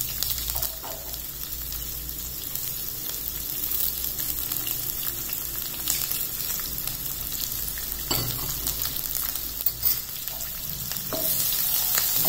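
Chopped onions and tempering seeds frying in a little oil in a pan for bread upma, a steady close sizzle with occasional stirring scrapes and clicks throughout, no voices.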